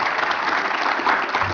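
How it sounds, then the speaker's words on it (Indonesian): A studio audience at a comedy roast breaks into steady, loud applause, a dense wash of clapping that fills the whole short moment without voices. "10 tepuk tangan."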